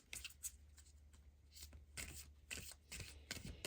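Halloween Oracle tarot cards being shuffled by hand, a close run of crisp papery riffles and slides in quick irregular bursts with short pauses, quiet overall and with no talking.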